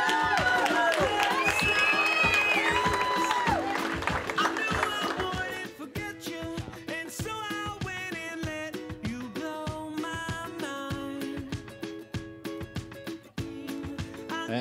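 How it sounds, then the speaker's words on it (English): Wedding guests at The Breakers on Ocean in Spring Lake, NJ applaud and cheer for the maid of honor, a loud, dense crowd sound blended with strong music throughout. "Ladies and gentlemen, big round of applause for your maid of honor"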